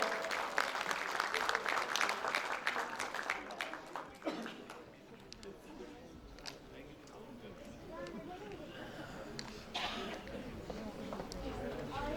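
Applause from guests at an anniversary friendship-night plaque ceremony, louder at first then thinning, with talk over it and scattered crowd murmurs.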